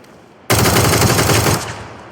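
Automatic gunfire in the PUBG video game, one loud close burst of rapid shots lasting about a second, then a short fading tail.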